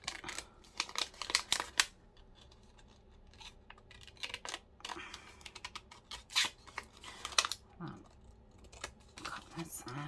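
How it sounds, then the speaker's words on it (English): Scissors cutting paper for a planner, quiet close snips and crisp paper rustles in irregular clusters, faint and intermittent. "let me get my scissors and just cut this out"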